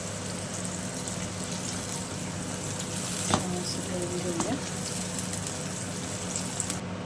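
A steady low bubbling and hiss of spinach puree boiling in a pan, with a couple of faint clinks partway through.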